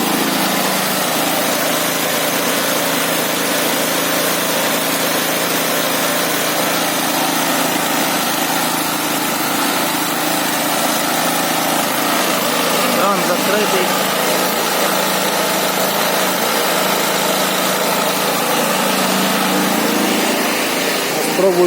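A petrol generator fitted with a dual-fuel carburetor, now running on gas: a loud, steady engine drone close by for the whole stretch, with no pauses or speed changes.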